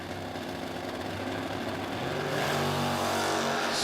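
Drag race cars launching at a drag strip, including a first-generation 1969 Camaro, with a loud, continuous engine roar that swells as they pull away.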